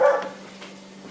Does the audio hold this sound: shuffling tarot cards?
no